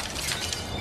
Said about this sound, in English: Now a stylish glass coffee table.